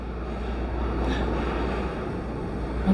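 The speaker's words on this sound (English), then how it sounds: "oh, that's rain." Steady rain falls outside during an indoor podcast recording, a continuous broadband hiss that holds fairly even for the whole stretch, with no talk over it.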